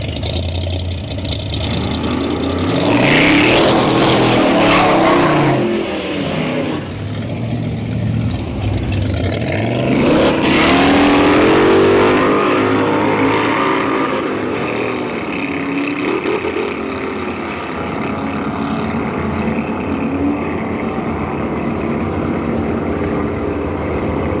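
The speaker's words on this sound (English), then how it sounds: "So, the super cool Willys Hemi Head Hunter is round again." A Willys Hemi-engined drag car, the Head Hunter, roars loudly at a Santa Pod nostalgia drag meeting, with two big surging engine bursts and a lingering mechanical drone between them.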